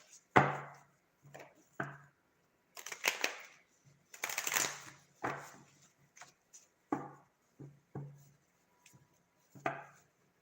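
Playing cards shuffled in several separate bursts, each a quick riffle or slap of the deck followed by pauses, close and fairly crisp in a quiet room.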